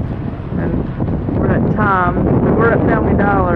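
Gusty wind roars against the microphone as a person speaks through it.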